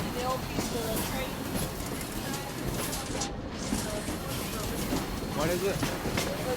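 A continuous low rumble fills a train carriage in motion, even and unbroken throughout, with murmured talk faintly beneath it.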